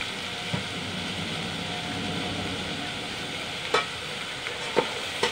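Pork sizzles steadily in a pan with tomatoes, pepper and salt, a continuous close frying hiss broken by a few faint stirring clicks.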